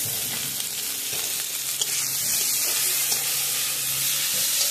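Chopped tomato hisses and sputters in a pan with already browned onions, black cumin and bay leaf, a loud, continuous close-up sizzle with faint stirring sounds and no talking.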